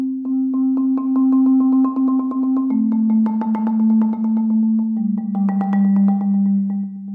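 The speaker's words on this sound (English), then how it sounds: "Marimbas are often criticized by performing accelerations and deaccelerations when they're playing rolls." Marimba roll played as a chorale, rapid repeated mallet strokes sustaining each chord, with the roll speed audibly speeding up and slowing down as the chords change.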